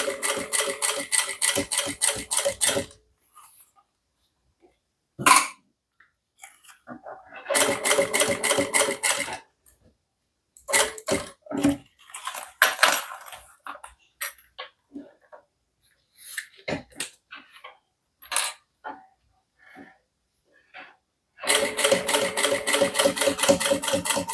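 Sewing machine stitching a fabric bag: three bursts of rapid, regular needle clatter at the start, middle and end, separated by quieter stretches of handling noises and scattered clicks.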